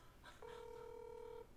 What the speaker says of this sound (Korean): 아 전화 해보자